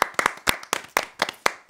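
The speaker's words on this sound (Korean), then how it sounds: "박수 한 번." Several sharp, separate hand claps from a small studio audience on a stage show, uneven in rhythm and fairly close, with quiet gaps between them and no talk over them.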